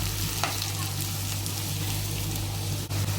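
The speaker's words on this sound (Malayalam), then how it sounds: "സവാള ഉള്ളിയും ചെറിയ ഉള്ളിയും 2 ഒന്നിച്ചാണ് ചേർത്ത് കൊടുക്കുന്നത്. നന്നായിട്ട് വഴറ്റിയെടുക്കാം." Onions and shallots sauté together in hot oil for a spicy chicken curry, a loud, close, steady sizzle with faint stirring scrapes throughout.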